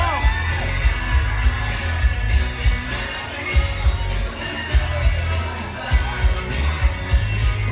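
A concert crowd cheers and whoops in a large, noisy roar, with sharp bangs and shouts rising above the constant wash of voices.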